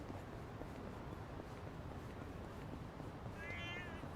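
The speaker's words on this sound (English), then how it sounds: "Very, very vocal cat, that one." Cat meowing in the video game Yakuza: Like a Dragon: a short, faint meow near the end over a steady bed of game ambience.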